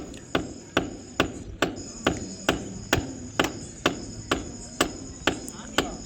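A hammer striking to fix the last clamp onto a rainwater pipe, a steady series of about fifteen sharp metallic blows at an even pace, close and clear.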